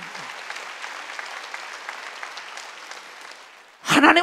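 Congregation applause during a Wednesday church service, a moderate, steady patter of many hands clapping in a large hall, followed by a preacher's loud voice at the very end.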